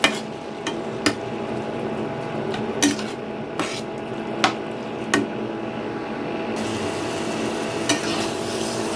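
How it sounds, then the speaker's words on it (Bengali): Bottle gourd cooks down in its own water in a pan while being stirred, with steady frying hiss under repeated scraping knocks of a spatula against the pan. "এখন এই লাউটাকে আমি একটু নাড়িয়ে চাড়িয়ে নেব"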